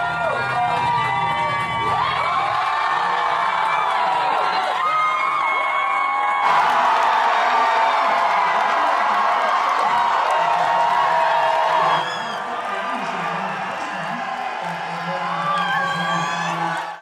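Loud crowd at a New York City election night party cheers, whoops and shouts continuously, with children's shrieks and music mixed in, the roar swelling midway then easing slightly toward the end.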